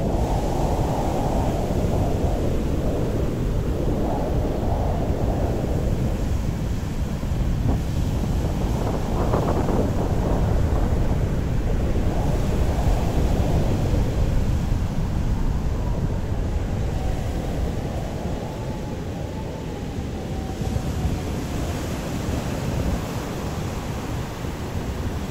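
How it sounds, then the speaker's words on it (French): Large ocean waves and strong wind on the coast of Oman, a loud continuous roar with heavy wind buffeting on the microphone and surging surf swells throughout, no talking. "Et quand on voit la taille des vagues,"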